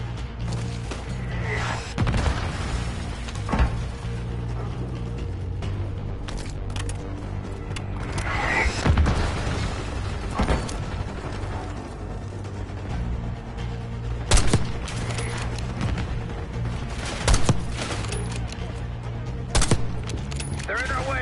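Black Ops 6 campaign combat with mortar explosions and gunfire: dense, continuous battle noise with repeated sharp bursts and heavier booms throughout, while voices speak over the fighting.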